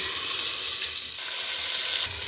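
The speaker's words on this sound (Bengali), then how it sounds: "কিছুটা সর্ষের তেল গরম করে নিয়েছি এবার দিয়ে দিচ্ছি ম্যারিনেট করা চিকেনটা" Marinated chicken for biryani hits hot mustard oil in a pan, producing a loud, continuous, hissing sizzle up close with no speech.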